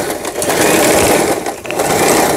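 A home sewing machine with a shuttle race body and newly replaced LED lamp stitches straight seams backward and forward, giving a steady close whirring hum without pause.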